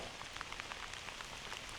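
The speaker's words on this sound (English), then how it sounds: "It's trying to rain again." Light rain falls in woodland, a steady soft patter of scattered drops on leaves and surfaces under a continuous hiss, fairly close and even throughout.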